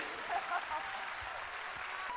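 A studio audience at an Italian political talk show applauds in a steady wash of clapping, moderately distant and unbroken throughout.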